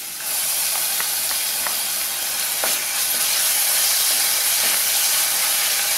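Ginger garlic paste hits browned onions in a pan for Chettinad pepper chicken, giving a constant loud hiss with faint scattered crackles throughout.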